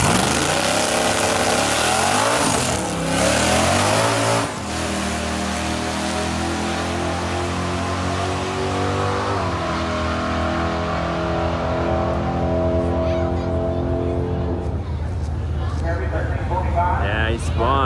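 A Mopar drag race car running a Georgia tune-up makes a shakedown pass at a Moparty 2021 drag racing event. Its engine gives a loud, sustained, close roar that climbs in pitch as it accelerates hard down the strip.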